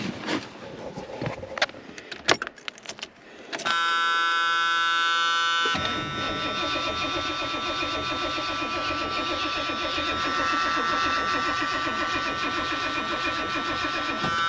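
A 1978 Lincoln's engine cranks over, a steady, loud chugging whir that runs on for several seconds, close by and after a shrill warning buzzer tone, with clunks and rustling before it.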